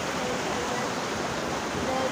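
Fast-flowing water rushes through a cave in Chhattisgarh, making a loud, steady, unbroken roar that fills the whole moment.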